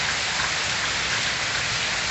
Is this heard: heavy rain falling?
yes